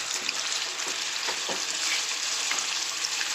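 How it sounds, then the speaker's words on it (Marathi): Mustard seeds crackling and sizzling in hot oil in a pan, a steady, close frying hiss with a few sharp pops scattered throughout, no voices. "आता काय तेल चांगलं गरम होऊन थोडीशी 4 दाणे मोहरीचे टाकलेत"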